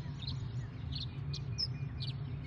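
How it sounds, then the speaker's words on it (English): Several birds chirp at dawn near a lake before sunrise, sharp high tweets repeating every half second or so, fairly faint over a steady low ambient hum, with no talk. "I can hear birds chirping."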